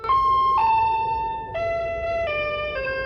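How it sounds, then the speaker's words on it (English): A synthesizer driven by signals from a sunflower through a bioresistor gives a sequence of pure, steady electronic tones that step between pitches like a slow siren, with no talk. "What you are hearing is literally the sound of a sunflower"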